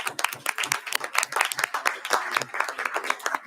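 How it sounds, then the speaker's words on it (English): Audience applause in a legislative House hearing room, a crowd of hands clapping steadily and fairly close for a few seconds with no voices over it. "Let's give him a round of applause, please."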